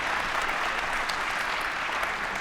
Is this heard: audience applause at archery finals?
yes